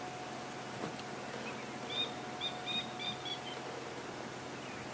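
A Coqui francolin calls in a short series of high, harsh notes at a moderate distance over steady outdoor background noise on a safari drive.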